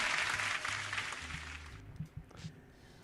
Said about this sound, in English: let's give our host here a round of applause